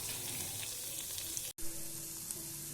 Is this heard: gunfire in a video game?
no